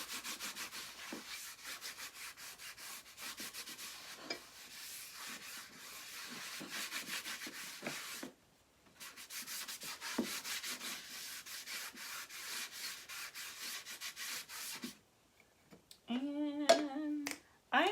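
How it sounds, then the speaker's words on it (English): Wax rubbed over a chalk-stencilled craft project, a fast, rhythmic scrubbing rasp repeated in steady strokes, close and fairly quiet, pausing twice, with a few brief squeaky sounds near the end. "Just go ahead and wax the whole thing."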